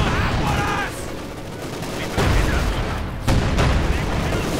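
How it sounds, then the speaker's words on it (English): Gunfire and artillery bombardment in a Company of Heroes 2 match, heavy booms and rattling fusillades rolling continuously and loudly, with a new burst striking around halfway and another near the end. "And there go Panzer Force bombarding the enemy infantry"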